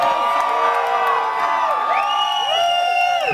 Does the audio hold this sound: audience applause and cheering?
yes